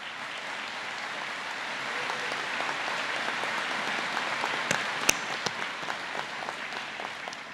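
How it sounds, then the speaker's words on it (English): A graduating class of 2018 applauds at a commencement ceremony, with dense, steady clapping from a large crowd that swells slightly and carries on throughout without speech. "class of 2018, give yourselves a round of applause."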